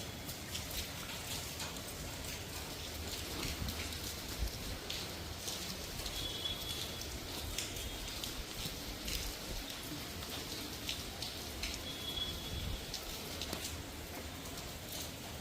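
Rain falling in Rajkot, a steady, soft hiss of drops continuing throughout at low volume with no voices.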